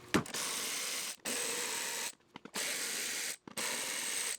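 A ratchet wrench loosens the 10mm bolts on a car engine's throttle body, giving four bursts of rapid clicking separated by short pauses, close and loud.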